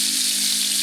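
Blackened catfish sizzles steadily in a skillet outdoors, a dense continuous hiss of hot fat with no pauses, close and fairly loud with no voices.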